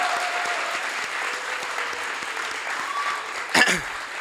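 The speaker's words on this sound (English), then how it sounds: "So let's give Victor a round of applause." A gala audience for an EMT graduation applauds steadily at moderate volume, a dense patter of many hands clapping for about four seconds, with a short louder bump near the end.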